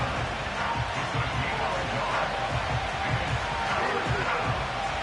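NFL stadium crowd at an Eagles versus Commanders game ahead of third down, a continuous loud roar of many fans with steady hubbub and no clear peaks.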